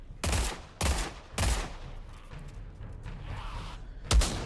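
Gunfire in a first-person shooter video game with MP5 and shotgun weapons: four loud, sharp shots spaced about a second apart, each with a booming low-end thump, separated by quieter background game noise.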